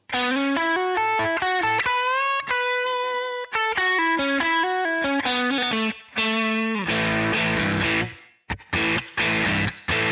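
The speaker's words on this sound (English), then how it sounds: "So if you play a major pentatonic lick, it will sound like this." A fast, distorted electric guitar major pentatonic lick runs up and down in quick bright notes, loud and close, ending in a few choppy bursts.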